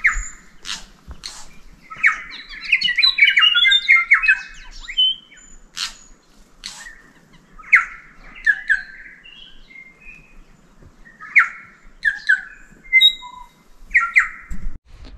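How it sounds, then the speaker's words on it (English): Birds call in the Eglinton Valley forest of New Zealand, bursts of chirps, trills and squawks scattered through quiet air, some near and some farther off, with pauses between. "Listen to all these birds in here."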